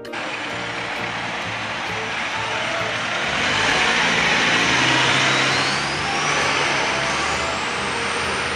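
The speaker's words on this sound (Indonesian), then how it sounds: "di sini juga teman-teman ada truk mixer atau truk molen" A cement mixer truck's engine rumbles steadily, swelling a little louder midway as it passes, with a broad roar of traffic noise around it and no clear talking.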